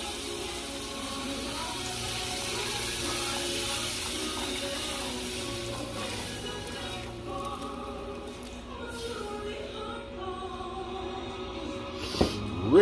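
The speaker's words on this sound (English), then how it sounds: "Got the water going in for the gravies." Water runs steadily into a pan to make gravy during holiday cooking at home, a continuous splashing pour with clinking in the background and a short sharp knock near the end.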